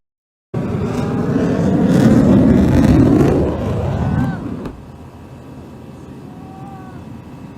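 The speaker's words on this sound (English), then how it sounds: "you can hear the engine of the wingman's F-35, and you can also hear the engine running on the crippled F-35" USAF F-35A jet engines roar loud and close, one from the wingman's aircraft and one still running on the crippled F-35 just before it crashes at Eielson AFB, Fairbanks, Alaska. The roar swells, then cuts off abruptly, leaving a quieter hum.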